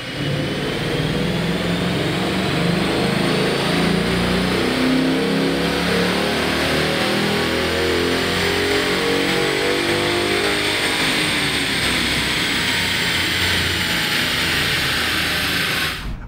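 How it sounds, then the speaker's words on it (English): A 2011 Ford Mustang GT strapped to a dyno makes a full pull, its V8 engine roaring loud and close as it climbs steadily through the revs, then drops off at the end. "our newly acquired 2011 GT is strapped down to the dyno and ready to make a hit"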